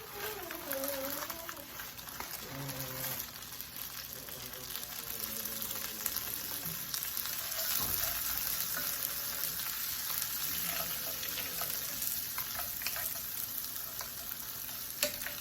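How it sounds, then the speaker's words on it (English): Frozen peas sizzle and fry in a pan for a shepherd's pie, a dense crackling hiss broken by occasional stirring scrapes. "Now I'm adding the frozen peas."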